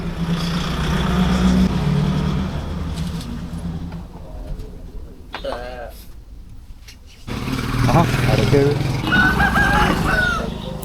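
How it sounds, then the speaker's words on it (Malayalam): Rooster crowing at midday on a roadside stop during a motorcycle road trip to Dhanushkodi, its call rising through steady outdoor noise and bird chatter, with people talking nearby. "നട്ടുച്ചയ്ക്കാണോടാ കൂവുന്നത്."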